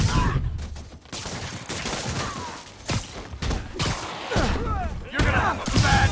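Gunfire in the Spider-Man Remastered video game: bursts of shots and heavy thuds crack through a chaotic fight, with shouting voices over the top.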